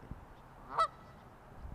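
A goose gives a single short honk at moderate distance against a quiet outdoor background.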